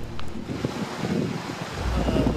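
Strong, cold mountain wind at freezing temperature buffets the microphone in a steady, loud roar with gusting surges throughout.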